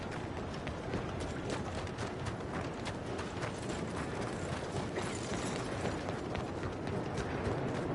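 Horse hooves clip-clopping in Red Dead Redemption 2, a steady run of hoofbeats mixed with mechanical rattling and game ambience, with no talk over it.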